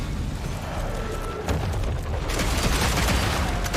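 Gunfire in the video game Evil West, a dense volley of booming shots and blasts that grows louder and busier partway through, heard close with no talk over it.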